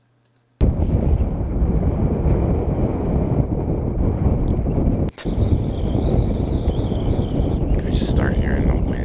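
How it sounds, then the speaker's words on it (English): Wind on a hilltop buffets the microphone in a loud, continuous, rumbling roar that starts abruptly and holds, dipping once briefly, while a person talks over it. "We just start hearing the wind."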